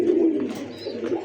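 Pigeons cooing close by, soft repeated low throaty coos with a few faint chirps, no talking, in a pigeon-keeping setting with red-beaked birds.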